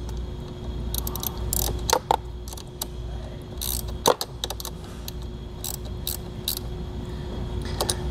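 Ratcheting and mechanical clicks from tightening a ring terminal fastener while installing a Curt T-Connector wiring harness on a 2019 Ford Transit, with scattered sharp ticks over a steady low hum, close by.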